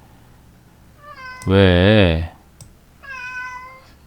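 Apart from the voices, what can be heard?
cats meowing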